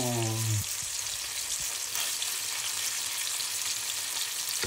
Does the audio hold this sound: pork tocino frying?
yes